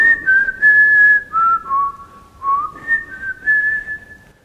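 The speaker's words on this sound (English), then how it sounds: "the way that whistle comes in" A melodic human whistle from a recorded song carries a clear tune of sustained and sliding notes, loud and up close, with short pauses between phrases.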